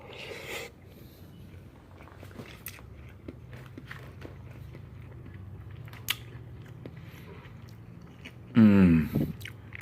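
Someone chews a mouthful of jasmine rice and eggs, soft close mastication and faint squishy bites running quietly through most of the stretch, ending in a louder burst of muffled vocal sound near the end.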